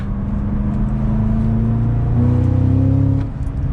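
Manual 2022 Cadillac CT5-V Blackwing with its V8 engine revving, a loud, steady, close drone that climbs in pitch partway through before easing off near the end.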